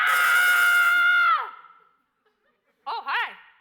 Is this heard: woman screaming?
yes